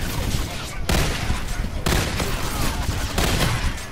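Call of Duty video game gunfire, dense rapid bursts of automatic shots in three loud volleys separated by very short gaps.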